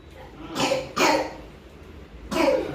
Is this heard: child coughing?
yes